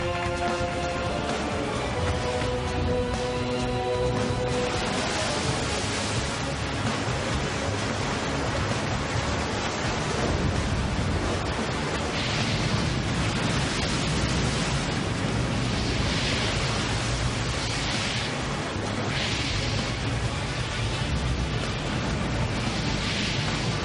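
Huge tsunami waves roar in a continuous loud wash of surf, a dense rushing noise with surging swells that rises and falls over a long stretch, no voice.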